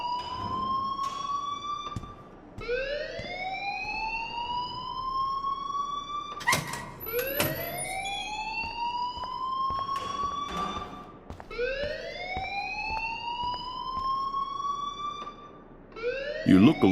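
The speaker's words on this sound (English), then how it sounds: "please turn off that alarm since that's your job" An alarm blares inside the Life is Strange video game, a loud electronic wail that sweeps upward in pitch and repeats every few seconds throughout.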